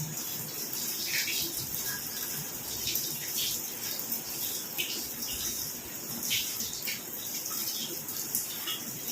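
Tap water runs steadily in a kitchen sink while a long, soft bottle gourd and other vegetables are washed, a continuous close splashing wash with small surges and no talking.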